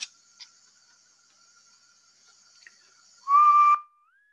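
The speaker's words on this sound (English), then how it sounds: "Wow, that was a crappy whistle" A person whistles to steer a game paddle by pitch, giving a loud, steady high whistle of about half a second that then slides upward and fades, after faint earlier tones.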